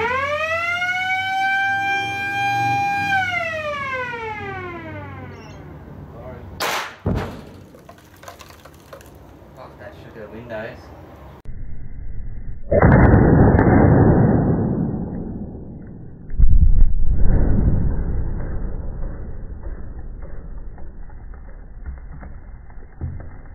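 A warning siren wails in rising and falling sweeps before a rock blasting shot of eight holes, which booms with a sharp crack, followed by a long rushing roar of debris and a second heavy burst.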